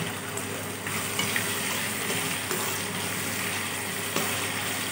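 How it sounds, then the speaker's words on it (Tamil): Rava kichadi ingredients sautéing in hot oil, a steady soft sizzle and hiss with occasional light stirring clicks, continuous and close throughout. "நம்ம எண்ணெயில நல்லா வதக்கிட்டோம்னா முக்காவாசி வெந்துரும்"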